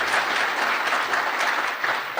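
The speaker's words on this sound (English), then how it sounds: "So give yourself a round of applause." An audience at the DEF CON 24 hacker conference applauds in a hall, a dense, steady wash of clapping from many hands, loud and sustained throughout with no voices over it.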